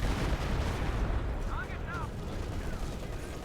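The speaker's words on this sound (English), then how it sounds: "I hear Stuka." A Stuka dive bomber strike in Company of Heroes 2 thunders as a dense, continuous barrage of explosions and gunfire rumbling loudly throughout, with a brief whining tone rising over the din midway.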